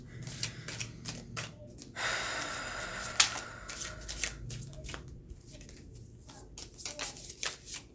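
Tarot cards shuffled vigorously by hand, close up, with rapid riffling bursts and soft slaps of the deck, plus a brief longer fanning rustle.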